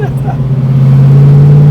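A 1969 Mustang Fastback Cobra Jet V8 on the road gives a steady, loud, low engine drone that grows stronger as it accelerates. Voices talk over the first part.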